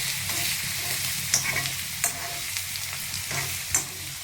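Curry leaves and onion fry in a pan with a close, continuous sizzle, punctuated by a few crisp pops and spatters at irregular moments, no voices present.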